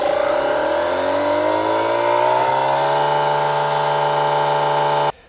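An ETENWOLF Vortex S6 portable tyre pump inflates a tyre, its motor a loud, close, continuous whine that steadies in pitch as it labours, then stops abruptly at the end.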